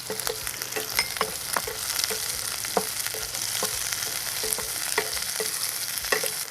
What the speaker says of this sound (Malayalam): അതിൻ്റെ കൂടെ ഒരു 3 പച്ചമുളക് എടുത്തിട്ടുണ്ട്, അത് ഇട്ട് കൊടുക്കും.